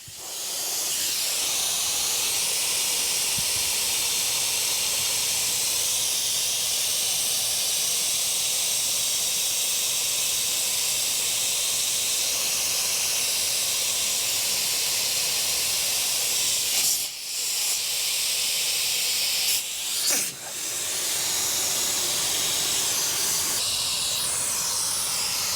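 Air hisses steadily out of a vehicle's tires as they are deflated, a loud continuous rush lasting the whole stretch with two brief interruptions near the end.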